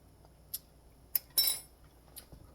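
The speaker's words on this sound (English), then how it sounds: "I'm going to get a teaspoon to taste this." A teaspoon clinks lightly against a dish in a quiet kitchen where chicken piccata is being made: a few short, faint metallic taps spaced apart, with one slightly longer rattling clink in the middle.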